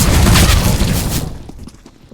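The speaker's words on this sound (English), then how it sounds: "Throwing a flashbang." A flashbang grenade bursts in Counter-Strike: Global Offensive, a loud, close blast that rings on and fades out over about a second.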